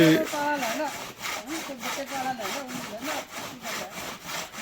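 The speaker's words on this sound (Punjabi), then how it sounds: "ਆਰਾ ਵਧੀਆ ਭਾਈ" A hand saw cuts steadily through wood in regular back-and-forth strokes, about two per second, close and clear with no talking over it.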